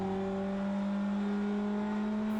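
A British touring car on a wet race lap approaching a corner, its engine a steady, close in-car drone with strong sustained tones and no talk.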